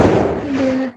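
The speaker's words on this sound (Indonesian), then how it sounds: "suara kembang api lagi" Fireworks crackle and boom during Eid celebrations, a dense, loud burst of popping that then settles into a fading rumble with a steady whistling tone.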